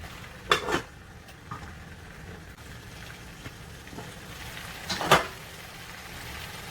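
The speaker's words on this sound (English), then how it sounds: "I'm just stirring it a little bit just to make sure it doesn't burn at the bottom." A spoon scrapes and clinks against a pot of Haitian oxtail being stirred, two distinct clattering strokes over a faint background hiss, with no talk.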